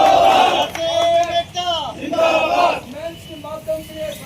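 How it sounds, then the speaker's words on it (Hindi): At a nurses' protest demonstration, a crowd lets out loud, close chanting cheers in a few swelling bursts that rise and fall over about four seconds. "मैं जोरदार तालियों के साथ आप सभी का उत्साहवर्धन करना चाहूंगा।"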